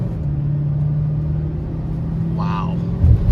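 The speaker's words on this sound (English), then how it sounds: "wide open throttle" A 2023 GMC Sierra 3500 pickup engine drones loudly and steadily at wide open throttle going uphill, a deep, even rumble from inside the cab; a brief higher sound cuts in near the end.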